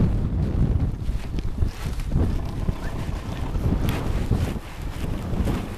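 Steady wind buffets the microphone at Castaic while fishing, with a constant low rumble, gusting slightly louder at moments throughout, with a faint watery wash beneath.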